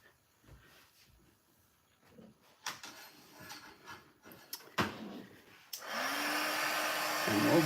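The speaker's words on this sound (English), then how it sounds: "going to plug my heat gun" A heat gun drying a mixed media artwork switches on after some quiet handling noises and clicks, then blows with a steady loud whirring rush that continues to the end.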